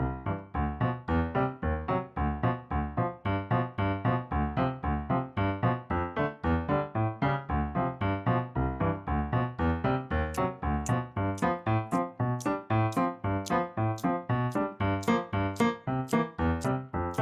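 Stride piano: steady alternating low bass notes and mid-range chords in a bouncy, even rhythm, loud and alone, with light high accents joining later.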